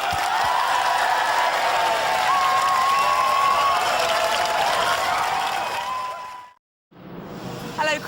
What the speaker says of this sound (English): round of applause for Splinter!